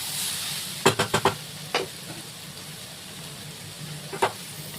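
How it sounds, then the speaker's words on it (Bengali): Young jackfruit frying in oil in a pan gives a steady low sizzle, broken by a quick cluster of sharp clatters near the start and a few more isolated knocks later. "আর এঁচোড়টাও এদিকে ভাজা হয়ে গেছে, অনেকটা সুন্দর ভাজা হয়েছে"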